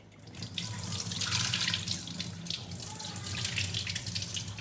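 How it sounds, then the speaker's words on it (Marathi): Rice and urad dal being washed in water, with a steady, moderately loud splash and swish of running water in a sink or bowl throughout, no voices. "तर आता याला आपल्याला स्वच्छ पाण्याने धुवून घ्यायचं आहे."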